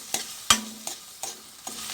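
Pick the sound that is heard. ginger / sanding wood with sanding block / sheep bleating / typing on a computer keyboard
ginger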